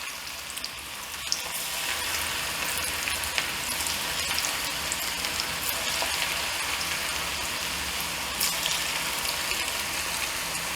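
Onion pakoda sizzles in hot oil with a steady, dense crackle and hiss that stays even throughout, moderately faint and close, with scattered sharper pops and no talking.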